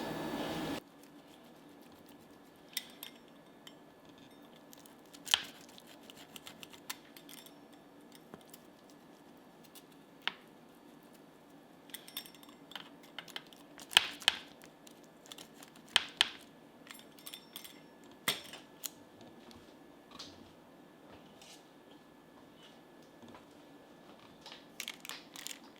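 A keto taco pizza on parchment paper is sliced, giving intermittent crisp crunches and crinkles at close range, scattered across a quiet background.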